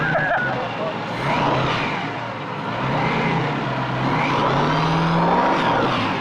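A supercharged 1953 Chevy Bel Air engine revs with a deep, guttural rumble that swells and holds steadily loud, with voices talking over it and surrounding event crowd noise.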